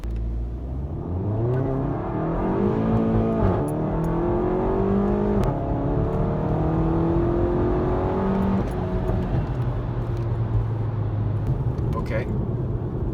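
A VW GTI MK7 with a Stratified Stage 2 ECU flash tune and extended crackles accelerates in manual mode. The engine note climbs in pitch through a couple of rising pulls, dropping at each shift, then settles into a steadier drone.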